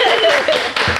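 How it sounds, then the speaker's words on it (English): A few people clap together in a short, close burst of hand claps, brief and dense. "We don't know why we're clapping"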